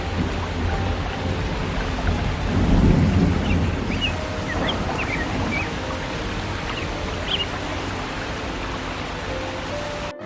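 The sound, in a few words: thunderstorm with strong wind and rain in a cartoon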